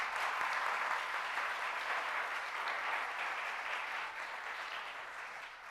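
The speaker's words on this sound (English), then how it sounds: "Let's give him a round of applause." An audience claps at a New York design school exhibition event, a full, dense round of applause that holds steady and then slowly tapers off toward the end.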